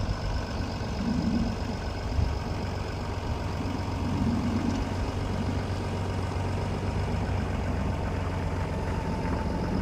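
A car engine runs at a low, steady idle-like drone while pulling a caravan out of a tight campsite, continuous and close throughout with no talk.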